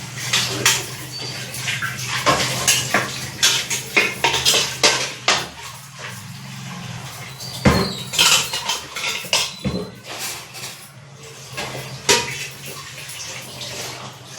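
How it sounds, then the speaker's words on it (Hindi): Dishes, pots and utensils washed by hand, including a milk pan and a tea pot, give steady clinks, clatters and scrapes of metal and crockery with splashing water, close and alone. "मैं जल्दी जल्दी अपने बर्तन धो देती हूँ।"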